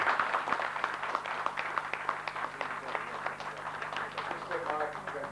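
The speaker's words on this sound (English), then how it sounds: "Let us give him a round of applause." Audience clapping at a book launch for an Emmanuel Attard biography in Blacktown, Sydney; a steady, dense round of applause from a room of guests that holds at even strength throughout.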